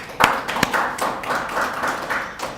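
A church congregation at a Wednesday service claps in church, starting with a few sharp separate claps, then moving into softer, uneven rhythmic clapping close by.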